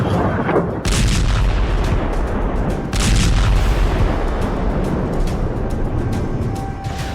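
Cluster bombs from a Khorramshahr missile strike explode on the ground, a dense roar of overlapping booms and crackling blasts with sharp onsets, loud and sustained like heavy artillery fire.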